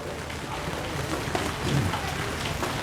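Steady rain hissing down on surfaces, a constant wash of patter with faint low rumbles, no voices heard.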